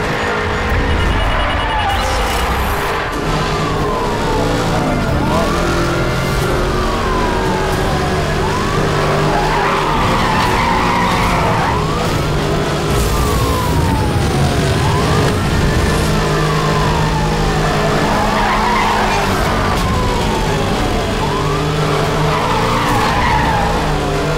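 Car tires screech and skid continuously during a loud chase, rubber squealing in repeated rising and falling sweeps over heavy engine roar and a wailing siren.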